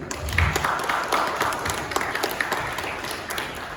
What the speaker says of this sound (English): please give a big round of applause to Abina